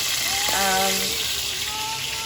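Chicken Maryland and pork sausages sizzle and crackle steadily in a hot frying pan, with a brief tonal scrape or whine over the frying noise.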